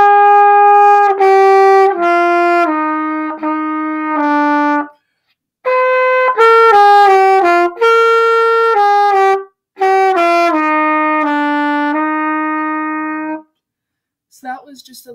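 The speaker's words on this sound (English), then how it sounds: "but when you put it in the trumpet, it sounds like this." A trumpet plays a short melody from a school band song, bright sustained notes in clear phrases with brief pauses, loud and close.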